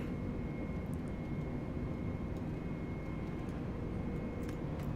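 Cabin of a British Airways A320neo airliner accelerating in flight after takeoff from Belfast, a steady low engine roar and airflow rumble with a faint tonal whine, constant throughout and without speech.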